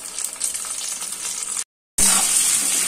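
Cut taro pieces hit hot oil in a home kitchen with a bright, steady hissing sizzle, close and loud, split by a short silent gap.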